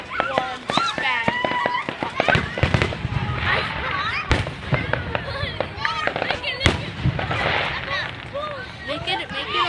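Fourth of July fireworks in a park crack and boom repeatedly, with sharp bangs scattered throughout and a constant crowd chatter around them.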